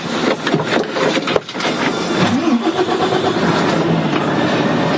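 A car engine cranks and catches, then settles into a steady, fairly loud idle before driving off; no talk over it.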